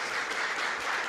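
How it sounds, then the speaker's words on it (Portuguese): A church congregation applauds during a worship service, a steady dense patter of clapping that fills the whole short moment at a moderate, even level. "Ei, pode aplaudir o Senhor Jesus."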